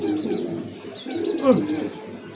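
Pigeons at a pigeon farm coo in soft, repeated low calls, steady and fairly close, with one fuller coo partway through and no talking.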